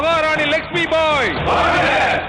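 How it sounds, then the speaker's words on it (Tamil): A crowd of voices in a Tamil historical drama about Jhansi shouts a loud rallying cry in long, rising and falling bursts, with a few individual voices standing out before the chant swells together. "இது லட்சுமி பாயின் குரல் அல்ல, மொத்த ஜான்சியின் குரல் ஆகும்."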